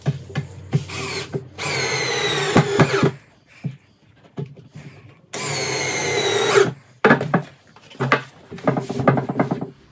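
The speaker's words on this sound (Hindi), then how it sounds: "अब हम इधर की तरफ से स्क्रू कर रहे हैं" A power screwdriver whines in several bursts as it drives screws into a marine-grade plywood diwan-cum-double bed frame, the motor pitch rising with each run, with short clicks and knocks of wood handling between.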